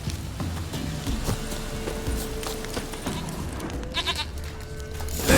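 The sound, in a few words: goat bleating in the video game Witcher 3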